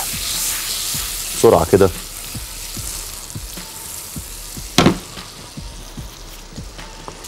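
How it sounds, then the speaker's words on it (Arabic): A knob of butter melts in a hot pan with a loud, continuous sizzle and crackle, broken by a few louder bursts and scrapes as it is moved around, while someone speaks briefly. "هنزل حته اهو من الزبده برده، وهدي كده ايه الحاجات دي فرصتها بس تسيح"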